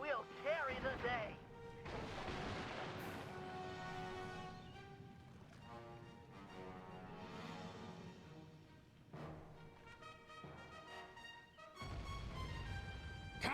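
Ship cannon fire and explosions in a naval battle in the video game Sly 3: Honour Among Thieves. Heavy booming bursts, loudest near the start and end, sound over a dense bed of game music, with voices speaking throughout.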